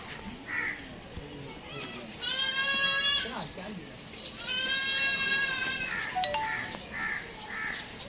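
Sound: goats bleating at a goat market

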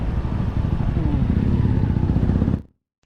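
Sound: motorcycle ridden through Mae Sariang town

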